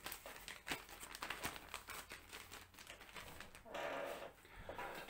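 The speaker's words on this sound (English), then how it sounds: "And an extremely handy plastic bag." Plastic bag from a modern British Army 24-hour ration pack crinkles and rustles up close, in a continuous run of crumpling handling noise with brief sharper crackles, no talking.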